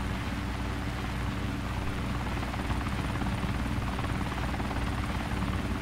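A video game helicopter closes on a landing zone and helipad, its rotor a loud, steady, continuous drone that holds without a break throughout.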